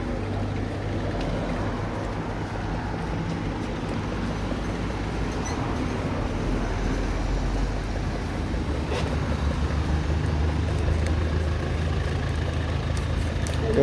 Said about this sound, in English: Thai cab.